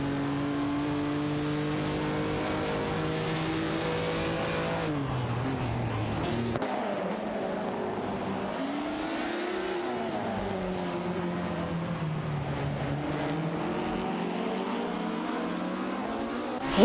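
AI-driven race cars in a racing video game roar past continuously, their engine tones holding high and then sweeping down and back up as they pass and shift, loud and close throughout.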